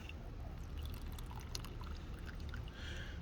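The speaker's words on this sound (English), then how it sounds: "Notice the white color as I pour off the extract." An alchemical extract pours off steadily from a vessel, a soft continuous liquid splash and trickle heard faintly over a quiet hiss, with no talk.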